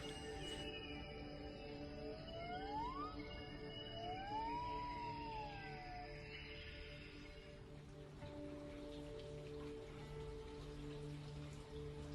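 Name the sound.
rain dripping in forest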